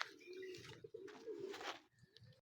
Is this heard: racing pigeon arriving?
yes